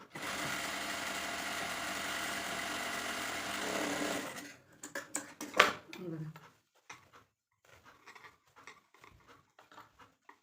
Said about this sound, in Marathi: साईडचं मला शिवायचं आहे ते पण तुम्हाला दाखवणार डबल शिलाई मारून घ्यायची आहे ना